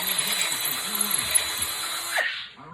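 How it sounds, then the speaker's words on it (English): Power drill whining steadily while reaming a hole in wood to shave it slightly wider for a homemade sand-casting flask, close and continuous, then spinning down at the end. "Just kind of smoothing that hole out, reaming it ever so slightly."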